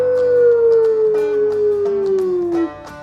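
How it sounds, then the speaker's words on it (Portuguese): A long, loud wolf howl glides slowly downward in pitch and then cuts off, with faint clicks and knocks behind it. "até sons de lobo"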